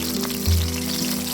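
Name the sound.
chopped onions frying in hot soybean oil in a wok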